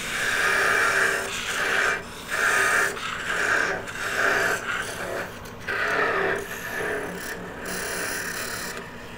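A small wooden bow tie piece being sanded by hand, giving rhythmic back-and-forth rasping strokes, about eight passes, steady and close, with brief pauses between strokes and no talk.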